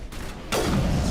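A single heavy sniper rifle shot in Mass Effect: Legendary Edition booms about halfway through, then a sustained rumbling tail follows, loud and close after a quieter lead-in.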